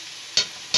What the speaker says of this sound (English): I'm going to saute that off now with some garlic.